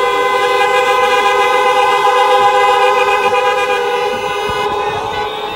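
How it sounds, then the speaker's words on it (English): Many car horns honk together at a drive-in graduation ceremony, a dense sustained chorus of overlapping toots holding steady for several seconds, loud and close, fading slightly near the end. "Honk it up, honk it up, honk it up."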